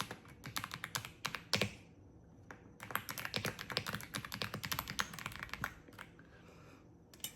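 Fingers type on a computer keyboard in quiet, close-up bursts of soft clicking keystrokes, with brief pauses between runs.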